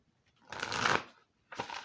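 A deck of mermaid oracle cards is shuffled by hand in two quick bursts of riffling, close and crisp with a short pause between them.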